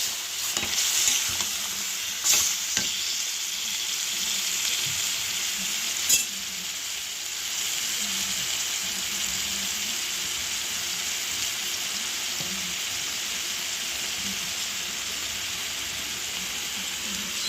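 Chicken sizzles steadily as it is fried and stirred in a kadai, a constant bright hiss with a few sharp scrapes of the spoon near the start, loud and close throughout with no talking.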